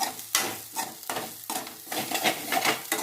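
Mezhukkupuratti with turmeric and chili powder being stirred in a pan: rhythmic scraping strokes of a spoon over a constant sizzle, close and clear, with no talking.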